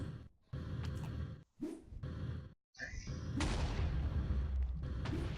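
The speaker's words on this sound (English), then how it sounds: "Stuff is exploding all around." Explosions going off in the game Minecraft, heavy booming blasts with rushing whooshes and a dense rumbling burst that keeps going, loud and close, broken by short gaps of silence.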